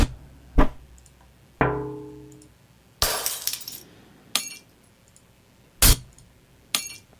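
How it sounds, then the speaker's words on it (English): A glass-breaking sample layered into a snare in Ableton gives several separate crashing, shattering hits, each spaced apart with a short, bright, tinkling tail, crisp and close. "Could add maybe a little bit more glass to it."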